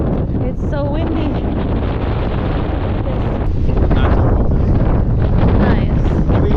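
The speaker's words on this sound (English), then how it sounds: "It's so windy." Strong wind roars across the microphone in constant gusts on a tour boat in Lisbon, Portugal, with faint background voices under the rushing air.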